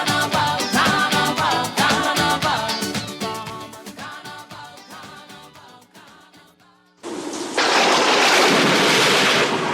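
Radio ad sound effect of a thunderstorm: musical tones fade out, then a loud burst of thunder breaks in with heavy rain hissing steadily to the end.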